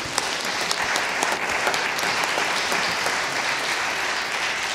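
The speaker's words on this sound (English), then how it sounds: "Please give yourself a round of applause." A crowd claps steadily and densely throughout, a full round of applause with no voices standing out.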